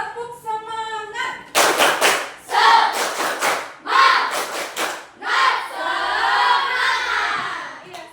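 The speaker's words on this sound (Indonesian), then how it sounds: "Tepuk semangat dulu biar lebih semangat." A school class does a rhythmic spirit clap, several bursts of loud group clapping in a patterned beat mixed with children's chanting and shouting, preceded by a teacher's voice.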